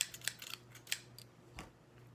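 Quiet, close scissor snips come in a quick uneven series of crisp metallic clicks, then a softer cut near the end.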